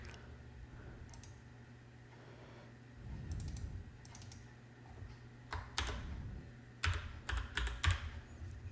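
Keyboard typing in scattered bursts of sharp clicks, close by, with a steady low hum underneath and no voices.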